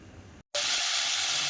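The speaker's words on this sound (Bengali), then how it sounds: "এই যে ঢেঁড়স ভাজা" Okra fries in a pan with a loud, steady hiss that cuts in after a brief silence, close and broadband with no voices.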